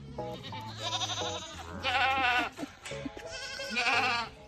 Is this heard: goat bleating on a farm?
yes